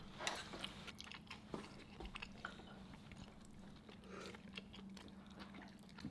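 Close, wet chewing and slurping of a beef bulgogi hot pot with broth at a home Christmas meal, soft squishy bites continuing steadily with a low background hum.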